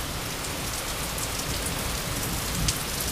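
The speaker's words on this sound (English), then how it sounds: "it's like pouring rain right here." Heavy rain pours down during a summer storm in Toronto, a dense, loud, constant hiss of drops striking surfaces that continues without letup.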